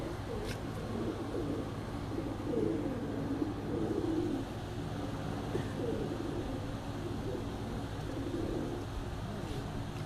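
Jaunsari pigeons in a rooftop loft coo in low, repeated murmurs over a steady background hum, with faint chirps and distant voices occasionally audible.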